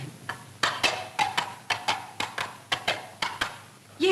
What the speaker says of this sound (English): Yes, it's a horse. I think it's the farmer galloping along the road.